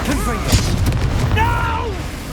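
A Confringo blasting spell in Hogwarts Legacy fires with a burst and boom while a character's shouting voice overlaps the blast throughout the short moment.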